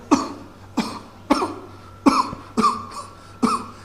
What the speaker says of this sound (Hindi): ऐसे खांसी आने लगेगा, ऐसे खांसी आएगा